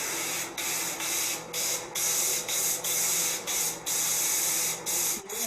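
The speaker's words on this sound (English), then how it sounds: "now I'm going to spray paint it." Gold spray paint hissing from an aerosol can onto the sole of a drawn skate, in a run of short close bursts separated by brief pauses.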